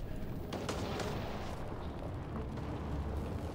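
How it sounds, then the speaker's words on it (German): Continuous rumbling explosions with scattered sharp bursts of gunfire in Mass Effect Andromeda, dense and loud throughout, like a noisy battle scene. "Ich höre doch Schüsse oder sowas."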